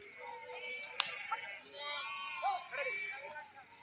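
Flock of sheep bleating as they file back to their pen behind a shepherd, a few scattered close calls rising over steady outdoor noise and background voices.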